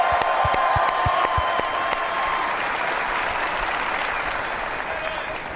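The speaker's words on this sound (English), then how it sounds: "Give a round of applause to Mr. James Jones." Sustained applause from a crowd at a Phoenix Suns news conference honoring James Jones, loud and steady throughout, with a brief voice at the start and the clapping easing slightly toward the end.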